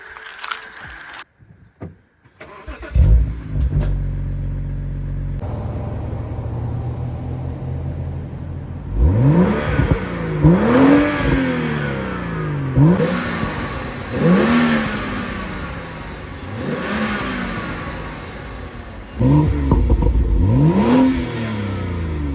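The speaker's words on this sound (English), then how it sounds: "the turbo does make a little bit of noise when you're revving it" A turbocharged BMW X1 xDrive35i engine revs repeatedly, rising and falling in several sharp bursts with a faint turbo whine, after a door closes and idling at the start.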